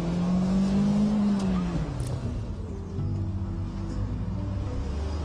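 Car building speed and being flicked into a handbrake drift, engine tone rising loudly then dropping, with steady road roar and a brief tire squeal, close and continuous.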